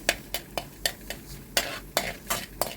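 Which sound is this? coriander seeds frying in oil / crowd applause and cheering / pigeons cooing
coriander seeds frying in oil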